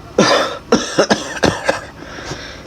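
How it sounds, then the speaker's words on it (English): A person coughs repeatedly up close, several harsh bursts in quick succession, then trails off into quieter breaths. "You're coughing a lot."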